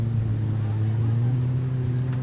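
A naturally aspirated stock runabout race boat, number 7, holds a steady, loud, low engine drone on the starting line, with faint voices underneath.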